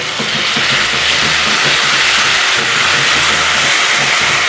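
Ginger, garlic and green chili paste fries with onions in hot oil for Agri-style misal. It makes a loud, dense, steady hiss and sizzle that runs unbroken throughout.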